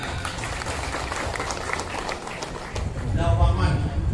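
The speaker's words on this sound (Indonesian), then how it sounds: "Tepuk tangan buat muslimat." Audience applause for Muslimat, the women's wing of Nahdlatul Ulama, at a gathering: dense, steady clapping from a large crowd with a low rumble underneath, growing somewhat louder toward the end.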